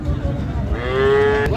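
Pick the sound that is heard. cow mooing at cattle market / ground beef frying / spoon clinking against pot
cow mooing at cattle market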